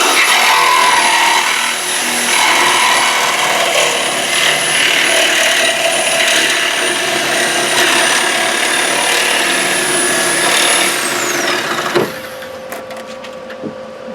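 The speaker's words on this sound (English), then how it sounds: "he's still learning how to use a Sawzall" A Sawzall reciprocating saw cuts steady and loud for about twelve seconds while removing a car's front bumper, a constant harsh buzzing drone that stops abruptly, leaving faint clanks and shop noise.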